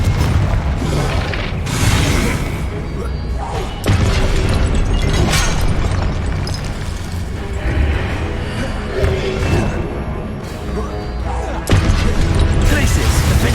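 Booming blasts of the Confringo fire spell in Hogwarts Legacy, several loud explosive bursts at intervals over continuous combat noise and effects.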